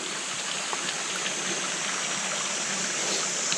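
A river stream flowing beside a forest campsite in Japan, a steady, even rush of running water with a soft trickling texture, continuous and unbroken, with no voices.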